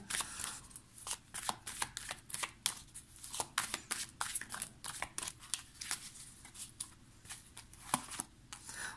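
Tarot cards are shuffled by hand, a rapid run of crisp papery riffles and flicks, close and quiet, in uneven bursts with no talking.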